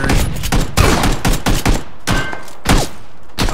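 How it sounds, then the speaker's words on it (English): Rapid bursts of gunfire in a battle royale shooter, loud close shots in uneven volleys with some thudding impacts, crackling in clusters across the whole stretch. "I'm getting shot from behind."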